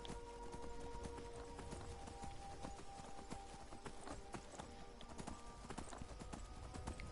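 A horse's hooves clop in a rapid, even gait in Skyrim, fairly quiet and continuous over the game's ambient hum, with no one speaking.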